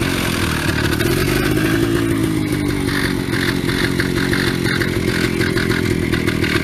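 A 1961 Harley-Davidson Topper scooter engine runs steadily at close range, a loud continuous rattling putter with mechanical clatter throughout and no voices.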